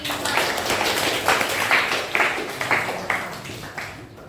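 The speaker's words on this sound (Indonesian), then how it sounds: "beri tepuk tangan dulu buat kelompok 5" A classroom of students claps together for student group 5, a burst of scattered handclaps that swells and fades over a few seconds.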